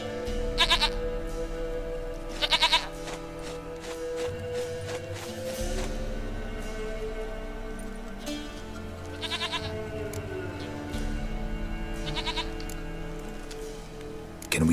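A goat bleats in The Witcher 3: Wild Hunt, several short bleats spaced a few seconds apart over a steady game ambience with a low hum, no speech.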